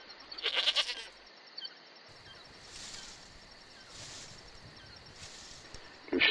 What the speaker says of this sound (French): Idéal, les chèvres acceptent notre présence,